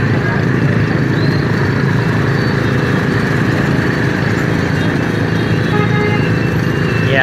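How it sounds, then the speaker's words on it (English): Dense street traffic in Saigon, thick with motorcycles, forms a loud, steady drone of many engines running together with no break for the whole stretch. "Yeah, lovely traffic."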